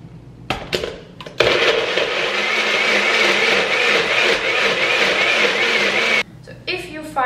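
A blender whirs loudly and steadily for about five seconds while it mixes a green smoothie, starting with a few short pulses and then stopping abruptly, after which a voice is heard briefly.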